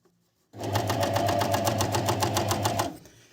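A Family 8000w sewing machine runs in one quick burst of about two seconds, its needle stitching in a fast, even rhythmic chatter over a low motor hum, close and fairly quiet before stopping and winding down.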